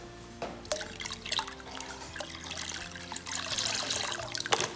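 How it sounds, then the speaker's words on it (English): Dyed water pours and splashes into a 5-gallon pail already holding water, a close trickling and splashing stream with small drips that swells toward the end. "going to dump our RoundUp into the 5 gallons of water"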